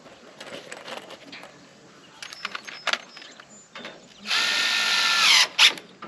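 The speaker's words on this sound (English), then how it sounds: "Let me just get a couple of screws started." A power drill drives a screw into the timber frame of a porch, one loud, sustained whine lasting about a second, with a brief burst after it, following scattered knocks and handling noises at a construction site.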